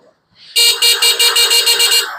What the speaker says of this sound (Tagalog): Punta tayo sa busina.